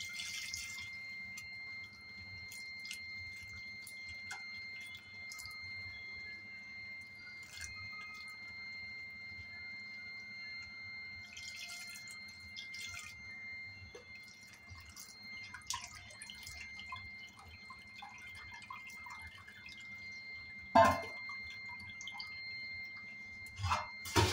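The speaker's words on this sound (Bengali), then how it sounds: "ছানাটা ভালো করে ধুয়ে নেব যাতে টক ভাবটা চলে যায়।" Fresh paneer chhana is rinsed with filtered water: sparse, quiet drips and trickles over a faint steady hum, ending with a few louder splashes.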